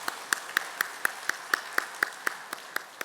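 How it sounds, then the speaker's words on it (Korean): Sparse applause from a church congregation honoring Sunday school teachers: about a dozen evenly spaced, sharp claps in a steady rhythm, fairly faint with a soft room hiss beneath. "교사 선생님들을 위하여 응원의 박수 한번 주셨으면 감사하겠습니다"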